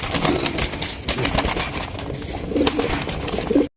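Pigeons kept for sale at a fancy pigeon market coo repeatedly in low, throaty phrases close by over a steady hum of background noise, with no speech.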